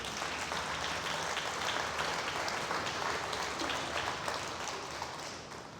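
Faint, dense applause from a church congregation during a Spanish-language sermon, steady throughout and heard from some distance in a large room.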